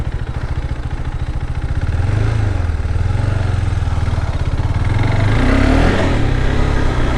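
A 2022 KTM RC390 BS6 motorcycle engine runs loud and close, building from a steady throb into sustained rising revs with a raspy, clattery drone; no talk.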